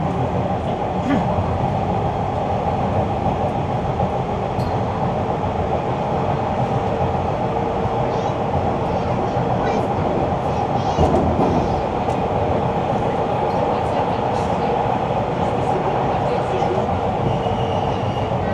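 A Toronto Line 1 subway train rumbles steadily along, with a continuous low roar and faint rattling of the cars throughout.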